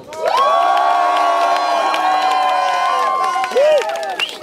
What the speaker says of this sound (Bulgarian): ще ви помоля тези, които искат да подкрепят Митака, да не викат за мишката